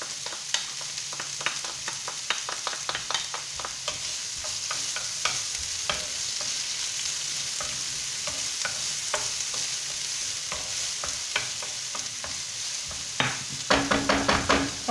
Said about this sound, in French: on va faire rissoler tout ça à la poêle